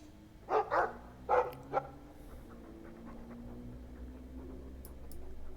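A dog in the video game Dragon Age II gives a few short barks close by, three or four quick yelps in the first two seconds, followed by quiet game ambience.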